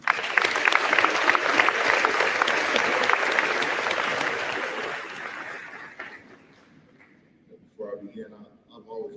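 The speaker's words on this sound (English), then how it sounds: "can we give Mr. Cocott another round of applause?" At a senior awards ceremony, an audience claps loudly and densely for about six seconds before the applause fades out, followed by a brief burst of speech.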